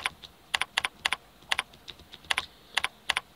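Typing on a computer keyboard while entering a filter criterion in a spreadsheet, with crisp close key clicks in quick clusters and short pauses between them, and no talking.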